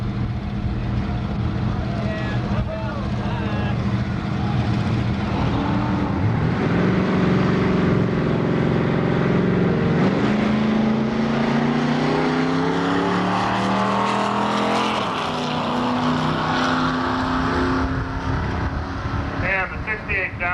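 A 1968 Dodge Charger roaring down the drag strip at a high school drag racing event at Milan Dragway, a loud sustained engine note rising in pitch through gear changes, with an announcer talking over it.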